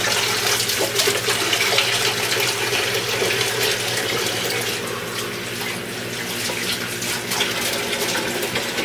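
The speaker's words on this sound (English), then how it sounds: "I'm gonna wash my hands again." Hands being washed under a running kitchen tap, a loud, continuous splashing rush of water with slight changes as the hands move through the stream, with no talking.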